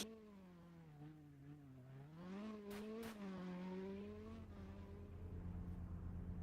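Rally car engine in the video game Global Rally Racing on an Italian rally stage, a steady droning motor whose pitch dips and rises as it accelerates, with brief tire squeal, no talk.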